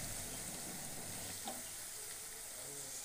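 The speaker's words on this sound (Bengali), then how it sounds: "এটা ততক্ষণ কষবো যতক্ষণ না এর থেকে আদা রসুনের কাঁচা গন্ধটা চলে যাচ্ছে" Chicken coated in ginger-garlic paste sizzles steadily in a pan while being stir-fried, a constant close hiss and crackle with a faint scrape partway through.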